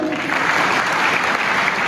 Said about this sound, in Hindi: एक बार इन 5 महानुभावों के बारे के लिए जोरदार तालियां होनी चाहिए